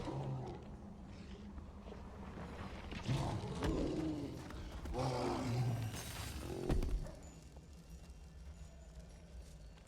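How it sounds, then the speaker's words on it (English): A Yeti roars in the dungeon game Dark and Darker, several rough, rising bellows a few seconds apart, fairly distant and muffled under a low ambient background. "I think it's the Yeti."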